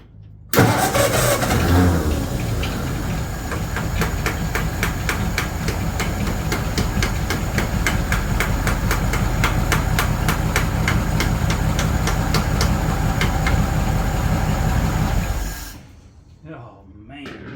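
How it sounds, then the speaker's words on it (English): Ford 8BA flathead V8 cranking and then firing up, running loud and steady with a rough, uneven idle and rattly knocks for about fifteen seconds before shutting off, voices audible briefly near the end. "we're gonna fire it up again and beat on that carburetor a little bit"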